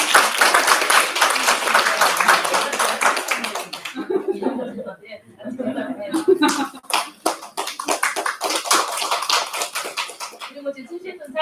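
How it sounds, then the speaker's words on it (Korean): Audience applause for three parents of school-age children introduced at a report meeting on disabled people's families in Jecheon. A loud, dense burst of clapping lasts about four seconds, then people talk with scattered claps continuing underneath. "큰 박수 부탁드립니다."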